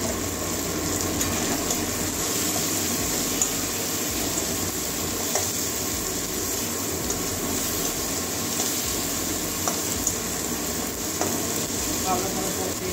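Ground cumin and coriander powder fry in a pan for a Bengali fish bhuna, giving a steady close sizzle with occasional scraping stirs and faint clinks.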